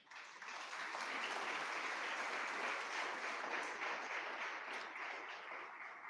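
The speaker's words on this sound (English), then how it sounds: "Put your hands together and let's applaud their effort as we felicitate them." A hall audience applauds students being felicitated at a school event, many hands clapping in a dense, sustained burst that holds steady for several seconds before easing slightly at the end.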